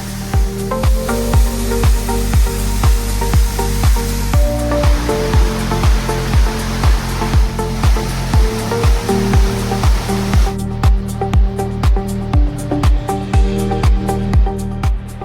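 Waterfall in El Salvador, a steep cascade reached with ropes, harnesses and helmets, roaring loud and steady as a dense broadband rush throughout, with no voices over it.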